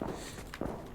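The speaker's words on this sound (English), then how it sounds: "I heard those footsteps." Footsteps in a tactical shooter video game thud steadily across a dense, loud game soundscape, with a couple of sharper step impacts.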